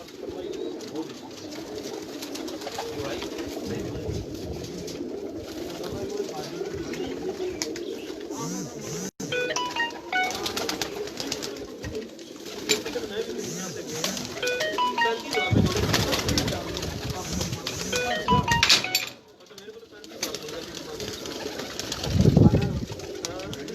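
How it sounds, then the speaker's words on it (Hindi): Flying pigeons coo on a rooftop, their soft repeated calls mixing with faint chirps and wing sounds close by, while someone talks over the birds throughout. "ये उनके वो परवाजी कबूतर है जो अभी जेट के लिए तैयार कर रहे हैं।"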